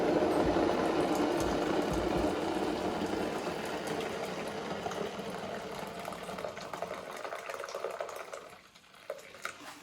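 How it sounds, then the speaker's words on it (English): Boiling water pours into a bain-marie in a steady, rushing splash, loud and close, then tapers off and stops near the end. "Okay, here we go, boiling water."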